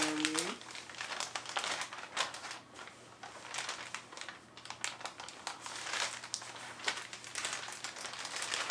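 A plastic bag crinkles and rustles continuously up close, with a brief voice near the start.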